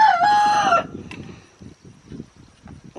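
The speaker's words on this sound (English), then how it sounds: "That's the rooster." A rooster crows loudly and close by, one raspy, strained cock-a-doodle-doo lasting under a second, followed by softer clucking and low farmyard sounds.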